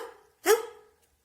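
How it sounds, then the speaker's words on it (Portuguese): A single sharp dog bark rings out close and loud after a fading tone, then cuts off into quiet. "ele ladra assim"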